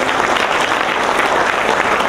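A panel discussion audience gives its moderator a sustained round of applause, dense and even from start to finish, loud and close with no talking over it.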